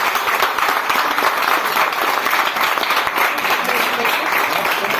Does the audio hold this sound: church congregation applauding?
yes